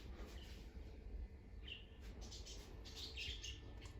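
Colourful caged birds in three cages outside a flat, chirping and tweeting in short, scattered calls over a steady low background rumble, moderately distant.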